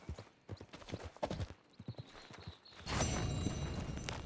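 Horse hooves clip-clop in a steady walking rhythm in Red Dead Redemption 2, close and fairly quiet, followed by a louder stretch of rushing noise.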